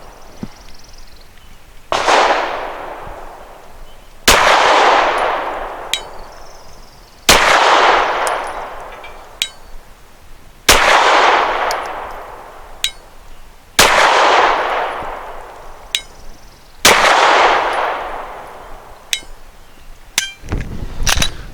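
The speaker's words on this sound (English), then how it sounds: "starting off with the Nosler match, 115 grain, and we are shooting at 7 yards" A Glock 34 pistol firing Nosler Match 115 grain rounds at an outdoor range, with sharp single loud shots spaced a few seconds apart, each followed by a long fading echo and faint clinks.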